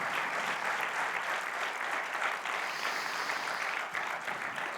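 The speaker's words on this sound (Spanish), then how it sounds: "Un aplauso muy fuerte, de verdad." Sustained audience applause filling a hall at a motivational conference on family and overcoming addiction, a dense, even clapping texture from a large crowd with no talking.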